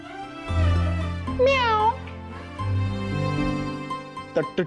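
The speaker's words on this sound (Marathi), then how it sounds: "स्वयंपाकघरात इंद्रायणी आणि मांजर अशी फाईट झालीये वाटतं." A cat meows once in a kitchen, a clear rising-and-falling cry over steady background music, with other faint kitchen sounds after it.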